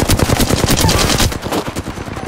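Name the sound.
gunfire in Mirage video game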